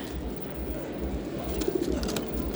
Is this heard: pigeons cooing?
yes